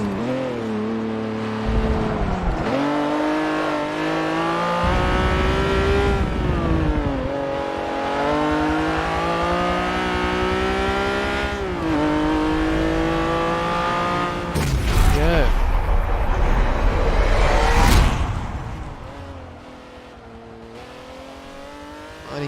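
A Honda NSX-R engine in Forza 7 on the Nordschleife howls and revs through gear changes, pitch dropping as it brakes and downshifts, then climbing again, with a short tyre scrub near the end and a voice talking over it.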